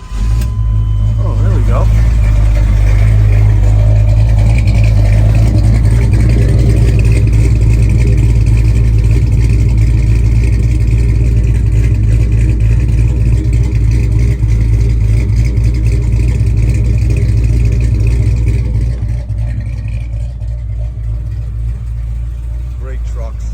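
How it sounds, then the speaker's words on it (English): The engine of a 1986 Chevrolet Silverado pickup starts and then runs loud and close in a strong, steady low roar, easing slightly near the end as a voice speaks briefly over it. "Fire it up real quick. Let's see if it'll fire without me giving it gas."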